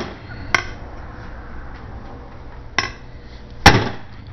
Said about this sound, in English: Then you're going to take your hammer and hit it right on that point.